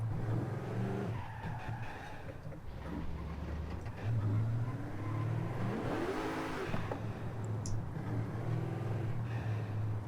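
A turbocharged car in Forza Horizon 5 revs hard for about ten seconds, its engine note rising and falling while the tyres squeal and skid as it struggles for grip, with no talking.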